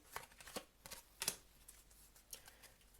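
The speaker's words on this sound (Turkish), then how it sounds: "Peki bir de size ruhu şu an ne söylemek ister diye ben bir kart çekeceğim." Tarot cards shuffled and one drawn, heard as a string of soft, quick papery flicks and taps, faint and close, with no voices.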